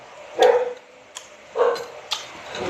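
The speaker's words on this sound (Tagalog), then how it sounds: "Tumahol yung mga aso ko." A few dogs barking at home, two short bursts of barks a second apart with fainter yips between, moderately close and heard alone.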